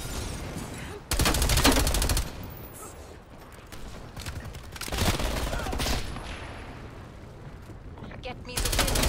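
Video game gunfire sounds in loud rapid bursts of automatic fire, with sniper shots among them, punctuated by quieter stretches. A player talks between the volleys.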